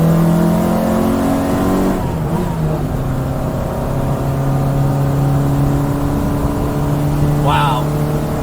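A 1967 Austin Cooper S with hydro suspension drives along, its engine droning steadily from inside the cabin with shifting tones as the revs change and a brief dip partway through.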